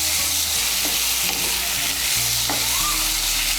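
Potatoes and drumsticks fry with chopped tomato in a pan, a loud, continuous sizzle with a few scattered spoon scrapes as the mix is stirred, heard up close without speech.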